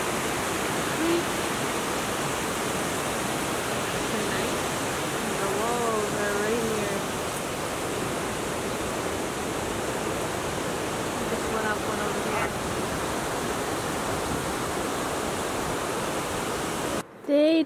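A creek in a national park flows with a steady, broadband rushing wash that holds at an even level throughout, close and continuous, with a brief faint call partway through and a sudden cutoff at the very end.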